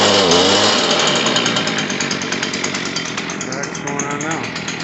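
A Stihl BG 86 leaf blower's small two-stroke engine runs loud and close, a steady rasping buzz that wavers slightly in pitch for the whole stretch, after a carburetor adjustment.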